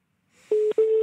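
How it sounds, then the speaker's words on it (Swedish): Telephone keypad dialing tones: a faint lead-in, then two steady single-pitch beeps separated by a short gap, clean and close with no voices. "Då ringer vi upp igen."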